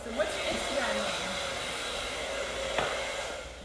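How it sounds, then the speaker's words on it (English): A hair dryer blows steadily and close by, a continuous broadband whoosh while a salon stylist blow-dries a client's asymmetrical graduated bob, with faint shifts as the nozzle moves. "I'm going to blow dry it real quick"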